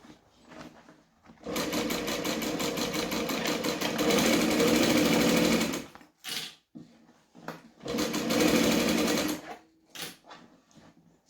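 Domestic sewing machine stitching the corner of a bag and then back stitching: a long steady run of fast rhythmic whirring, a pause, then a second burst, close and loud with only faint clicks in between.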